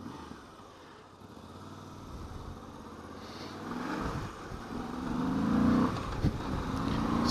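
Moto Guzzi V85TT engine under way at motorway speed around 3,500 RPM, a steady close drone that swells gradually with acceleration, with wind rush and one brief knock near the end.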